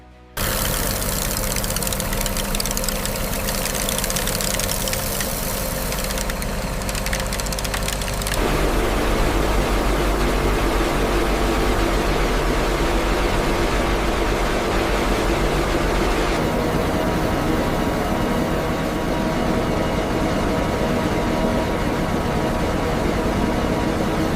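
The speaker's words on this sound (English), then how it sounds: "The raw paddy enters the vibrating pre-cleaner, where the aspiration system lifts away lightweight dust and straw." A vibrating paddy pre-cleaner with an aspiration system runs in a rice husk processing factory, giving a loud, continuous mechanical roar and rattle whose tone shifts partway through as the machinery changes load.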